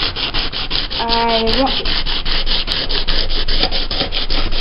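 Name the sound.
sanding model train track to clean it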